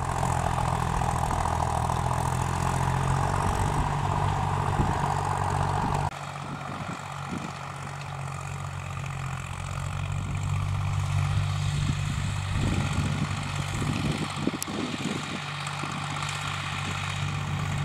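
A John Deere tractor's diesel engine, a 2.9-litre unit, runs steadily nearby with a loud, continuous throbbing drone that drops slightly in pitch partway through and keeps going without talk.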